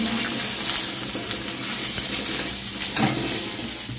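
Semolina balls stirred into a hot spiced pan with a little oil, a steady sizzle under continuous scraping and stirring, with a few louder clacks of the spoon, close and without talk.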